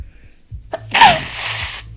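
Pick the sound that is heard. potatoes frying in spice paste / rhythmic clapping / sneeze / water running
sneeze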